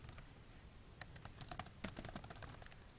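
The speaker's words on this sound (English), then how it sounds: "You're going to type your name," Fingers tap on a computer keyboard, a quiet, irregular run of light clicks that picks up into a quicker flurry near the middle before slowing again. No one talks.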